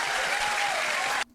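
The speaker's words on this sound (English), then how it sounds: "see what I mean about the thunderous applause for the absolute nonsense?" Audience at a flat earth pastor's talk breaking into applause, a dense steady wash of clapping that cuts off abruptly near the end.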